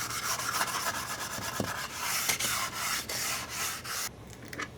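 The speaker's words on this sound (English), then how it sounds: "I'm gonna give this one final sanding on the edges" Hand-sanding along the edges of a wooden tray makes steady, close scratchy rubbing strokes in a repeating back-and-forth rhythm, ending abruptly.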